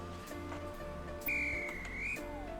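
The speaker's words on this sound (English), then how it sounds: "you're gonna blow the whistle" A train guard's whistle is blown in the video game Roblox Stepford County Railway, one sustained shrill tone lasting about a second over a steady background hum.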